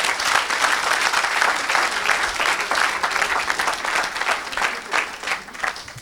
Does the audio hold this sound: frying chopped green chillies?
no